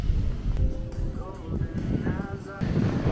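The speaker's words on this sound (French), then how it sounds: "il y a énormément de vent" Gusty wind buffets the microphone in low rumbling bursts outdoors in Miami, with a French-speaking voice over it and some distant tonal sounds.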